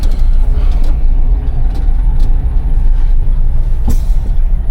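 Steady low rumble of a truck cab while driving, loud and continuous with no talk, a few faint clicks and rattles on top.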